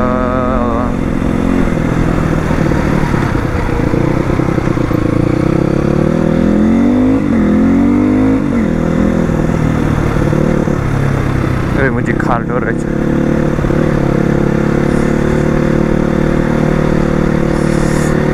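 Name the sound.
motorcycle riding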